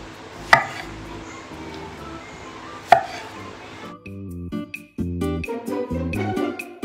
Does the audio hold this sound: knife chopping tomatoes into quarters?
yes